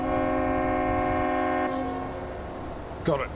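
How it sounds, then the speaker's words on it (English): A truck fitted with a train horn in the Euro Truck Simulator 2 driving game blasts one long, loud, multi-tone honk that cuts off sharply, followed by engine hum and a brief spoken remark. "Love my train horn."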